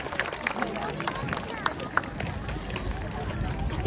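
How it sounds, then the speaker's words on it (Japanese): At an outdoor festival stage in Yokohama's Red Brick Warehouse area, a crowd claps steadily, a dense patter of hands with background chatter and a few sharper claps standing out. "皆さん今一度大きな拍手でお送りください。"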